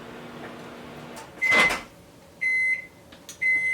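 A small 700 watt microwave oven hums quietly, then a door clunks and several bright electronic beeps ring out, close and clear with no voices.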